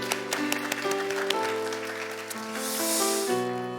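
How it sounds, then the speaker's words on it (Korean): A church congregation gives a round of applause, a soft, hissing wash of clapping with sharper claps at the start, under sustained keyboard or organ chords. "우리 격려와 위로의 박수 함께 드리겠습니다."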